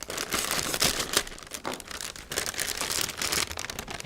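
A packet of salad dressing mix is torn open and its plastic wrapper crinkles and crumples up close, in short rustling bursts over about four seconds.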